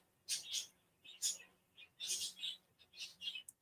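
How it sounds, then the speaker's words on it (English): Two pet parakeets chirp in a room, a string of faint, high, scratchy tweets and chatter in short irregular bursts with no talking over them. "You guys and gals can probably hear my birds in the background a lot when I'm doing streams and stuff"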